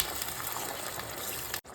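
Water gushes steadily into a cooking pan of green borscht after tomato paste was added, a continuous broadband pouring rush that cuts off abruptly near the end, close and alone.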